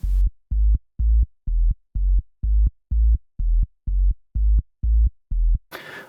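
A deep bass line layered with sub bass in a house track pulses in twelve even, short, heavy notes with a steady rhythm, booming and low, with a burst of noisy hiss at the very end.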